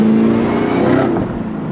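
Nissan GTR cars drive through the downtown streets of a small city, their engines droning close and loud as they roll past, the sound holding steady before easing slightly toward the end.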